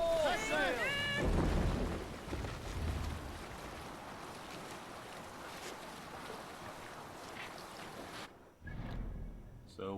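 Viking longship rowed at sea in Assassin's Creed Valhalla, with rushing water, wind and wave wash filling the scene for several seconds beneath a shouted voice and faint game music.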